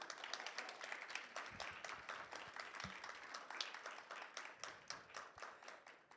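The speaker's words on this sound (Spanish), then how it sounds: "Un aplauso, por favor." A small audience at a book launch claps in a quiet, fairly faint patter of many hands, sustained for several seconds with a few sharper individual claps.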